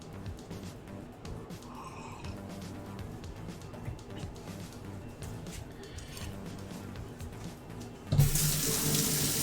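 Steady water streams from a kitchen tap while a knife is washed, a continuous rushing flow with faint handling noises, swelling louder near the end as the stream strengthens.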